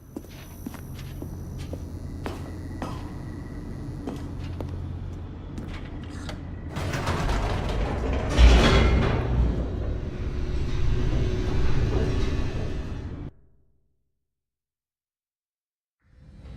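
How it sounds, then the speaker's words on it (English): Elevator descending in the video game The Stanley Parable: a low steady mechanical rumble with faint ticks and clanks, swelling into a louder rushing roar midway, then cutting off to silence before a faint return. "The elevator raced downward, plummeting towards an unknown fate."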